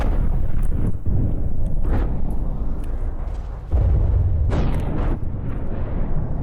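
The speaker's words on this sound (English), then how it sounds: "Oh, big explosion. That was probably the ammo again." Ammunition aboard an airship detonates in a big explosion in the game From the Depths, a loud, sustained roaring blast with repeated crackling bursts and booms filling the whole stretch.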